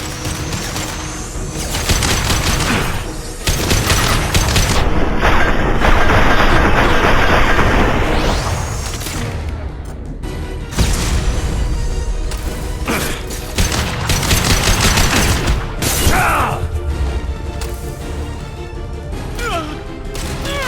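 Heavy gunfire from armor-piercing weapons in a Mass Effect 2 firefight, long dense barrages with booming impacts and crashes filling the scene, loud and close, with brief voices between shots.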